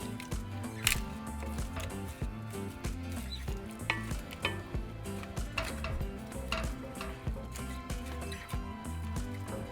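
Seasoned pork with onion, garlic cloves, bay leaves, oregano, thyme and garlic salt is stirred in a pot for chicharrón, giving a close, steady sizzle with repeated scraping and clinking of a utensil against the metal pot.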